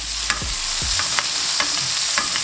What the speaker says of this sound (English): Mix up the butter and the garlic and the thyme. And baste it with butter for the remaining time.